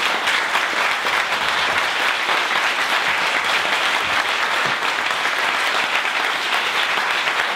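Sustained applause from a seminar audience of economists at a talk on circuitism and MMT, dense and steady throughout as someone leaves the room, with no voices rising above it.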